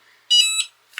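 An electric pressure cooker that has just released some pressure gives a short, loud, high electronic beep, then a brief second chirp, in a quiet kitchen with no voices.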